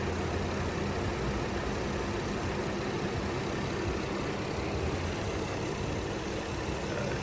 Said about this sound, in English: This little Ecoboost engine.